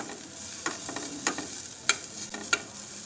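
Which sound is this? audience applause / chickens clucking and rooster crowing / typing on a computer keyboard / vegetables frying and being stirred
vegetables frying and being stirred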